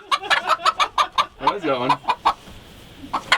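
Chickens cluck in a quick series of sharp, close calls, one squawk drawn out in the middle. A person says a few words briefly between the calls.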